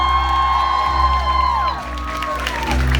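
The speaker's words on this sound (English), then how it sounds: "can we please give him a round of applause?" A concert crowd cheers and applauds at a world tour show in Vancouver. Loud whoops and clapping swell over sustained musical tones and continue steadily.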